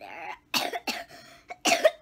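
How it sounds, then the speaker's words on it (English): Four short coughs in quick, uneven succession, close to the listener and fairly quiet, with brief silences between them and no talking. "this cough"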